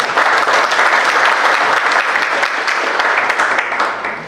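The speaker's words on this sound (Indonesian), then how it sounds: "Tepuk tangan untuk beliau." Audience at a university law faculty public lecture in Semarang bursts into loud, dense, sustained applause that holds steady for several seconds before tapering slightly at the end.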